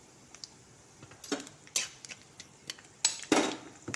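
A metal spoon scrapes and clinks in a pan as turmeric is stirred into hot oil for a raw mango chutney, with a few separate scraping strokes and quiet pauses between them.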